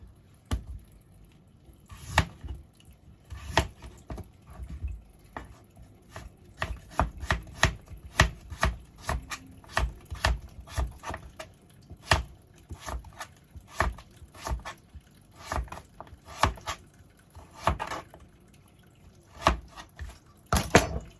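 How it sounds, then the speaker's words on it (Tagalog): A knife chops vegetables for Japanese side dishes, hijiki nimono and kiriboshi daikon, on a cutting board: a steady run of crisp, close strikes, sparse at first, then quicker and more regular, with no talk. "Ganitong hiwa ang gagawin natin."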